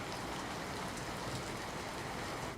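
Heavy monsoon downpour in Khedbrahma taluka, Sabarkantha, falling as a dense, steady hiss of rain on surfaces, continuous and even throughout with no voices.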